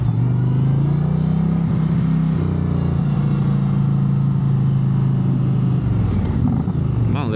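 An Indian motorcycle on stock pipes runs close by with a loud, steady low rumble. It idles and revs in a few swells with short dips between them.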